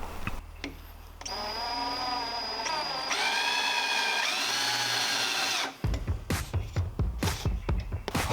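A power drill whines steadily at close range for several seconds while drilling into a Miata radiator, then cuts into short, rhythmic bursts of drilling.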